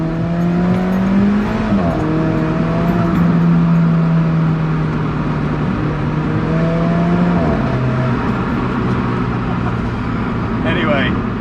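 Alfa Romeo 4C sports car driving with a steady loud engine drone and shifting tones as it changes gear and speed, heard from inside with constant road noise.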